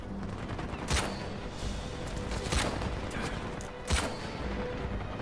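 Gunfire in Uncharted 4 plays as a steady crackle of shots over a busy game backdrop, with a few sharper, louder reports standing out near the start, middle and end.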